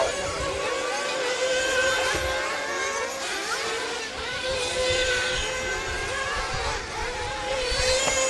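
Several nitro-powered RC truggies race at a club season-opener main event, their small high-revving engines whining steadily and overlapping at a distance, pitch rising and falling as they circle the track with no talk.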